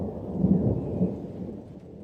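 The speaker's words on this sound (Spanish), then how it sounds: "La lluvia empezó a caer con fuerza" Deep rolling thunder rumbles through a rainstorm, swelling to a low peak before fading back under the steady patter of heavy rain.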